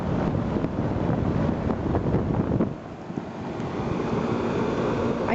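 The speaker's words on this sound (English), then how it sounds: "I can barely hear that compressor." A Trane XB10 outdoor air conditioner unit with a GE 1100 RPM, 1/10 horsepower fan motor runs close by, giving a steady, even whooshing roar with a faint compressor hum underneath and no voices.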